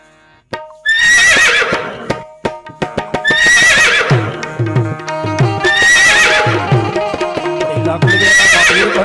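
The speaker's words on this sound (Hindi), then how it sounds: "એક અબળાની વારે રામદેવજી મહારાજ પોતાનો ઘોડીલો લઈ આવે તો કેવી રીતે આવે" Loud whinny-like cries repeat about every two and a half seconds over a rhythmic clip-clop beat in a devotional stage performance portraying Ramdev Pir arriving on his mare.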